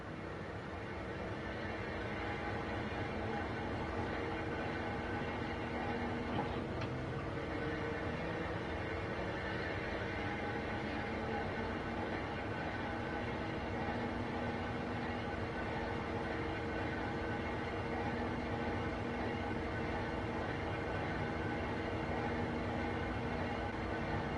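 Locomotive turntable rotating in the Train Sim World 4 railway simulator, a steady continuous mechanical rumble and drone with faint rail-yard hum, unbroken and fairly loud throughout with no talking.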